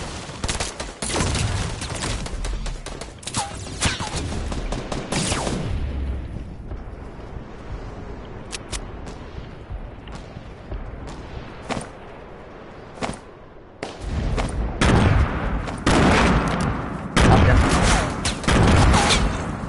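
Gunfire in a video game, with dense bursts of loud shots and explosive cracks at the start, sparser isolated shots through the middle, then heavy rapid firing again toward the end.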